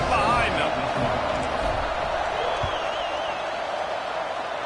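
Auburn college football stadium crowd before a kickoff, a broad roar and murmur that fades slightly over several seconds beneath a commentator's voice.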